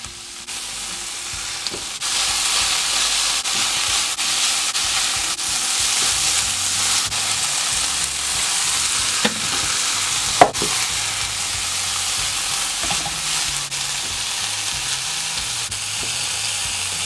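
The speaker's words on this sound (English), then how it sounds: "Add 10 to 12 mint leaves. Add pinch of salt. Fry well." Mint leaves with a pinch of salt fry in a pan for hariyali paneer tikka, producing a continuous loud hiss with a few brief spatula clicks scattered through.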